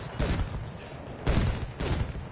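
Mortar fire in the video game Frontlines, heard as repeated dense bursts of booming impacts and crackling gunfire that swell and fade in two waves, loud and close, with speech faintly mixed in.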